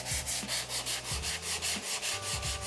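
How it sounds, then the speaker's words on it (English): A drywall sanding block rubs up and down over filled holes in a wall, making loud, close, rhythmic rasping strokes in steady back-and-forth succession, with no talking. "take a sanding block, it's for drywall, and just run it up and down here"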